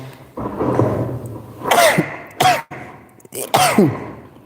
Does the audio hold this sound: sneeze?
yes